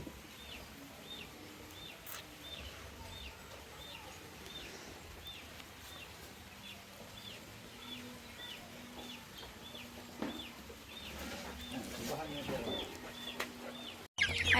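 Chickens cluck in a backyard, with soft repeated calls at close range over a low ambient hum and occasional knocks, and a loud bump right at the end.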